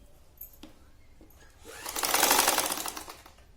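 A sewing machine stitching a blouse piece whirs up into a steady, rapid run of needle strokes after a few quiet ticks, close and loud for about a second and a half.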